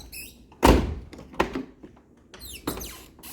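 On a Peugeot 306 the door pin creaks and the door thunks as the door opens and moves. There is a sharp clunk, then two more knocks and squeaky scrapes spread over a few seconds, fairly close and with no talk.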